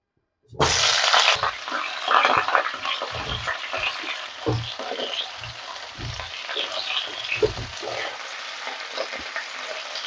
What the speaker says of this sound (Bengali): ওই তেলেতেই আমি ফুলকপি আর আলুগুলো ভেজে নিচ্ছি